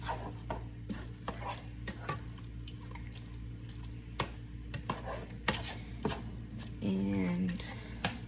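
Mostaccioli pasta being stirred in a pot, with scraping and clinking utensil sounds over a steady background hum, a short burst of activity near the end.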